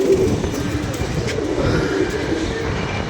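A pigeon coos, its low calls faint and buried in a steady broadband rumble that runs the whole time, with no clear voices.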